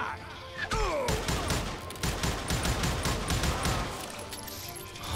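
Rapid gunfire from a Western shooter video game, a dense volley of repeated shots with loud cracks throughout, starting after a brief quieter lead-in and continuing steadily to the end.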